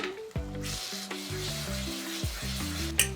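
Chopped onion frying in a pan for a tomato-based lentil dish, giving a steady close sizzling hiss with a few soft stirring scrapes, partly masked by tonal background music.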